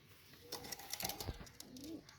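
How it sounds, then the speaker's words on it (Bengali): Pakistani high flyer pigeons cooing softly at close range, a few low throaty coos among faint rustling. "খুবই চমৎকার মানের কবুতর"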